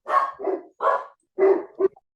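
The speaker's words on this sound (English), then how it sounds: "I got a barking dog." A dog barks five times in short, close, loud bursts indoors, with brief pauses between the barks.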